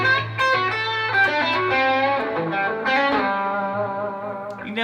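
A 335 electric guitar with heavy reverb rings out in sustained, overlapping notes and chords that trail and blend into a washed tail, played alone.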